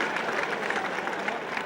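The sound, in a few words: football stadium crowd cheering and applauding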